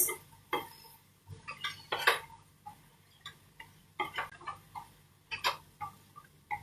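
Vegetables including baby corn are stirred in a pot with chilli and garlic, giving irregular soft scrapes and clinks of a utensil against the pot, fairly quiet.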